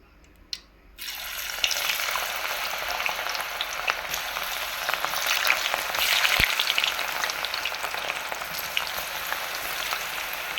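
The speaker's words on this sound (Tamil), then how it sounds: "எண்ணெய் காஞ்சிச்சு நம்ம இப்போ காலிஃப்ளவர் ஆட் பண்ணிக்கலாம்" Cauliflower for cauliflower 65 dropped into hot oil, a sudden loud burst of dense frying hiss that keeps crackling steadily after a brief quiet start.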